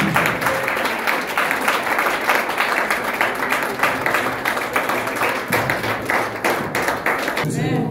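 A congregation at a French-language charismatic church service claps loudly and steadily in a driving, rhythmic pattern, with voices mixed in beneath the dense clapping.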